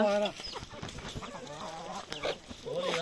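A rooster clucks and calls close by in short, bursty sounds, with faint voices mixed in.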